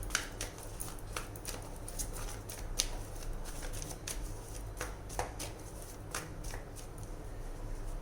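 Tarot cards being shuffled by hand: a steady, close, soft riffling patter with repeated crisp flicks of card stock, no talking.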